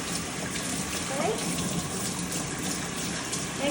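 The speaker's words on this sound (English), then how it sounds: "Use your hands, push the water through the coat." Water running through a dog's coat to rinse out soap during a bath, a steady close gushing and splashing that continues without a break for a few seconds.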